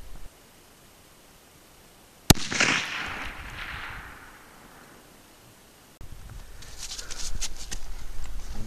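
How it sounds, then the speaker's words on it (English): A Winchester 94 lever-action rifle in 30-30 fires a hand-loaded Sierra 150 grain flat nose round at a 350-yard target: one sharp, loud crack followed by a fading outdoor rumble, then later rustling and handling noise. "Winchester 94 30-30. Gonna be shooting the Sierra 150 grain flat nose, my hand load"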